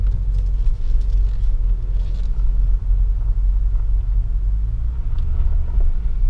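A Range Rover engine idles steadily after being switched back on, producing a constant low rumble that stays close, with no voices over it.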